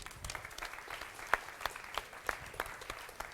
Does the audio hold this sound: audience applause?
yes